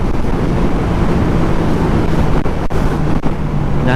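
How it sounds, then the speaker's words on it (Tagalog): Strong wind buffets the microphone in a loud, continuous roar with a couple of brief dips, no voices. "Lakas ng hangin."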